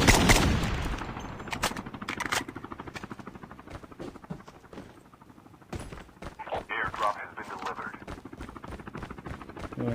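Rapid bursts of Call of Duty Mobile gunfire crackle throughout, mixed with a helicopter-like drone and game effects, pausing briefly midway before resuming.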